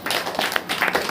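Church congregation at a Saturday worship meeting clapping hands, a quick run of sharp claps in irregular rhythm, fairly close and without talk.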